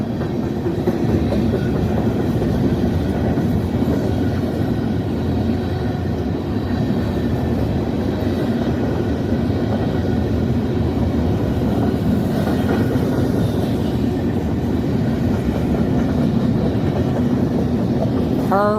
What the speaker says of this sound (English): Grain train.